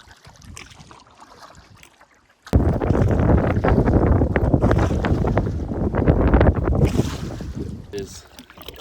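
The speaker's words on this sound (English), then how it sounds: "Very windy." Strong wind on a humid, sunny river trip, heavy gusty buffeting across the microphone that starts suddenly after a quiet opening and roars steadily, loud and close, with no talk.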